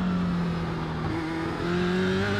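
Race car engine drone from an F3 single-seater at Summit Point Raceway in iRacing, a steady loud whine with pitch rising and shifting as another car draws alongside on the right, continuous throughout with no talk.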